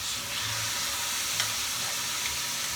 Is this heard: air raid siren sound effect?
no